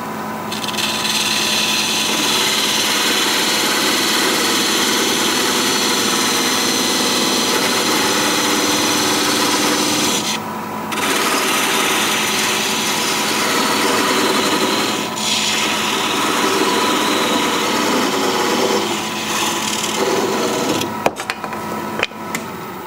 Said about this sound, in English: And to cut it off, I'm going to use this thin parting tool.